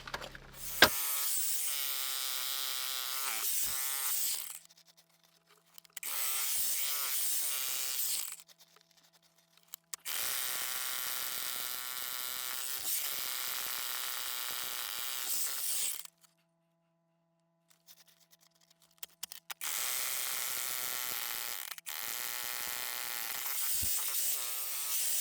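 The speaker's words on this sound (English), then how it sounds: "that big rock is not moving anywhere with the jackhammer" A jackhammer breaking a big rock inside a tunnel, long loud bursts of harsh rattling hammering separated by pauses of near silence, with no voices.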